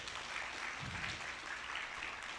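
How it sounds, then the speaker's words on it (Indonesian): Audience applause at an Indonesian intellectual talk, a steady wash of clapping held at an even level for a couple of seconds, moderately distant and without speech. "Kasih tepuk tangan, luar biasa."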